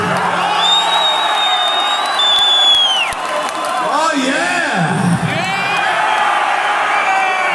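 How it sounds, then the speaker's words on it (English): Heavy metal concert crowd in Russia roaring and whooping loudly, a dense sustained wall of cheering with shouts rising over it and a voice calling out briefly. "fucking Russian heavy metal crowd."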